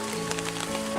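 Rain pours steadily at an outdoor excavation site where ancient Majapahit-era building remains were found, a dense, continuous hiss of drops on surfaces filling the short moment without talk.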